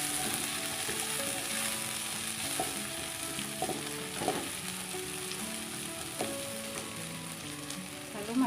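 Bird's eye chili peppers sizzling as they are stir-fried in a pan, a steady close frying hiss with spatula scrapes and clinks against the pan throughout, no talking.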